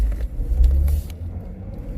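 A BMW E92 M3 fitted with an AFD flex-fuel kit and running E85 drives along, giving a steady low engine rumble that swells slightly and then eases, heard from inside the car with no talk.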